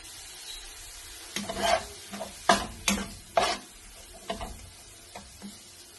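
Coconut masala for stuffed mussels is stirred in a pan: a quiet low sizzle broken by a series of distinct scraping, knocking spoon strokes in an uneven rhythm, close by and free of talk.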